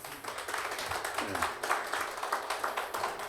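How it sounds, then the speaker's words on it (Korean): Audience applause at a sports and martial arts policy meeting, a steady wash of many hands clapping throughout at moderate level, with a few voices mixed in underneath. "앞으로 잘 담아서 꼭 반영해 달라고 큰 박수 좀 부탁드립니다."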